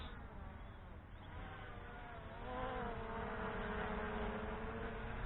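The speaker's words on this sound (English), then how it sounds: "Those brushless motors do sound good." Drone with brushless motors buzzing steadily in flight, a sustained whirring hum that rises slightly in pitch and loudness partway through as the craft speeds up, heard alone without talk.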